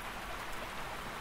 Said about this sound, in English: as rain started falling outside